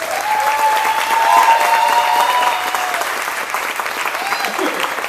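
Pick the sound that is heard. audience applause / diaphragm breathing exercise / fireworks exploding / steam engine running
audience applause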